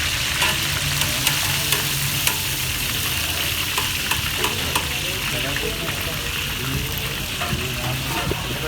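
Lahori fish frying in hot oil for a wedding-style dish, a steady loud sizzle and crackle with occasional sharp pops and stirring clicks throughout.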